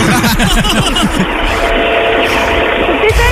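A tractor engine rumbles loudly and close as it drives into a living room, a throbbing low motor with a rhythmic chug at first, while people talk over it.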